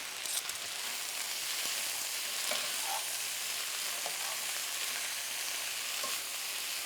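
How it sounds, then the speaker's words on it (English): Beef and zucchini stir-fry in a pan with a steady, close frying sizzle throughout, broken by occasional light clicks of a utensil stirring. "add back in my beef that I took out already, and we'll let this cook just a little longer until the zucchini is soft"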